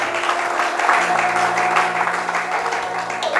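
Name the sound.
congregation applauding for the glory of God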